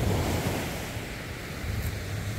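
Sea waves break and wash in a continuous loud surge along the shore during autumn gizzard shad cast-net fishing, with wind buffeting the microphone and no talk.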